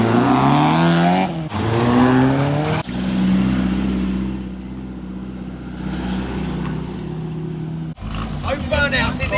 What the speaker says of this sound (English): Open burnouts in the yard